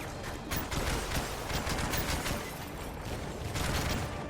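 Dense, continuous gunfire from a Call of Duty: Modern Warfare 3 level, sustained rapid shots layered over explosive rumble and action noise throughout, with no pauses.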